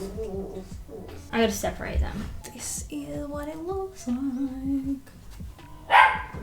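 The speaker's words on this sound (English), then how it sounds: "Excuse my dogs." Dogs bark and yip in short, scattered bursts, some high and whiny, mixed under and between a person talking close by.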